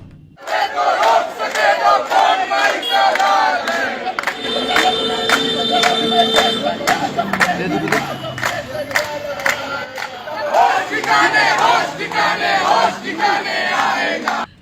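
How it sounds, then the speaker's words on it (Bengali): A large crowd of ABVP students at Jadavpur shouts a loud, rhythmic Jai Shri Ram slogan in unison. The massed voices stay steady and close for the whole stretch, with repeated chanted phrases. "যাদবপুরে এবিভিপির ছাত্ররা তাই স্লোগান তুলেছে, মাওবাদীদের বাবার নাম জয় শ্রীরাম।"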